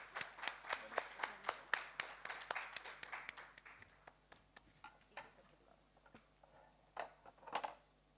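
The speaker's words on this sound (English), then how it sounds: "Please, everyone, with a huge round of applause," A small audience at a felicitation ceremony claps, starting with a run of distinct, fairly even claps that thin out into scattered, fainter ones and a brief late flurry, with a little talk in the background.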